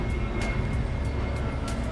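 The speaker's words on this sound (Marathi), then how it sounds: "पागल विमान आहे ते विमान आहे" An airplane drones overhead outside a dinosaur-themed garden, a steady broadband roar holding evenly for the whole moment without talk.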